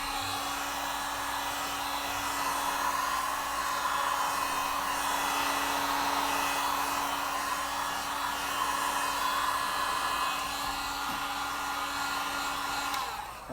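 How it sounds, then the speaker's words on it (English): A heat gun blows steadily on larp-safe rapier parts to soften and shape them, giving a constant close whooshing roar with a faint tonal whine that runs unbroken before cutting off at the end. "the easiest way to do that is with a heat gun"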